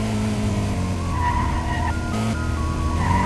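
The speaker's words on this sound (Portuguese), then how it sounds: "Olha o carro do gás." A gas delivery truck in a Brazilian open-world driving game roars past with engine revving, shifting pitch and tire squeal, loud and close without speech.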